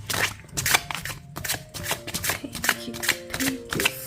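Tarot cards are shuffled for a card reading in quick, close riffling bursts with soft papery slaps between them, while a faint tone rings quietly underneath.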